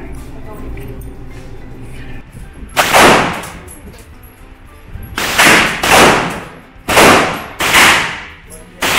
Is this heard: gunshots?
yes